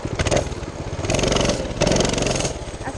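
Mini bike engine revving hard in three surging bursts, dropping briefly between each, while the rider pulls wheelies through water; close, loud and buzzy with no talking.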